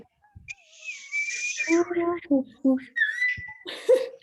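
People try to whistle like a bird, producing short, wavering whistled tones alongside giggles and breathy laughter, close and lively, with voices mixed in as human imitation of birdsong.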